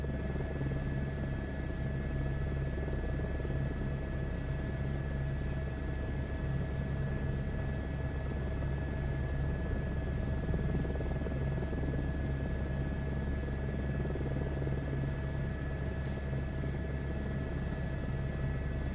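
Helicopter flying in Microsoft Flight Simulator 2024, a steady turbine whine with tonal hum over a constant low rotor rumble, even and unbroken throughout with no talk.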